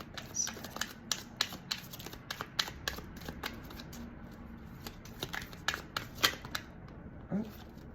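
Tarot cards are shuffled and riffled from a deck, making a quick series of crisp, close flicking snaps in an uneven rhythm, quiet overall.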